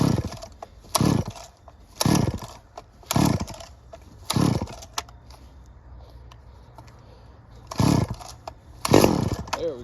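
A Stihl 009L chainsaw is pull-started with repeated short, loud bursts of cranking and sputtering, separated by brief quiet gaps, before the engine catches near the end.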